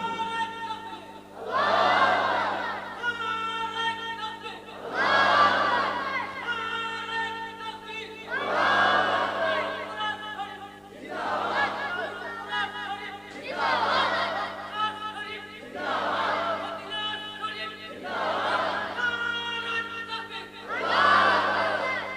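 A large crowd at a religious sermon chanting the takbir in loud, rhythmic waves, each call rising and fading roughly every three to four seconds, voices massed together and sustained.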